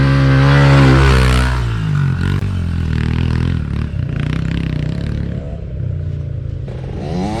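A dirt bike tips over on a dirt hill. A loud, close engine revs at the start, followed by scraping and clattering as the bike goes down, then the motor keeps running at a lower drone.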